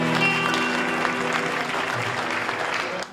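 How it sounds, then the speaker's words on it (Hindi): An audience at a Hindi poetry recitation breaks into dense, sustained applause, loud and continuous before tapering off abruptly at the end. "कृपया तालियों से अपना साथ दीजिए"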